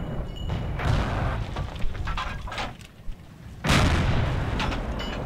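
Tank cannon fire in the video game Forgotten Hope 2 comes as heavy booms and thuds. One especially loud, broad blast lands near the end over a rumbling battlefield background.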